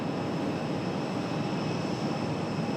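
A FedEx Boeing 767-300 arriving from Memphis at Raleigh-Durham airport: a steady, moderately distant roar of jet engines, even and unbroken, with no voices.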